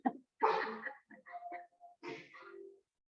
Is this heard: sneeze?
yes